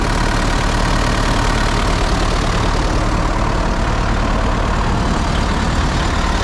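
MTZ tractor engine running steadily while pulling a fertilizer spreader across a field at night, a loud, constant close-up rumble with no break.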